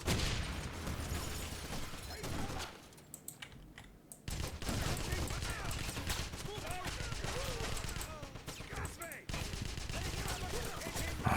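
Bursts of machine-gun fire crackle in a Wolfenstein (2009) shooter firefight, dense and sustained through most of the stretch, dropping briefly to quieter scattered shots before resuming at full intensity, with a voice talking over parts of it.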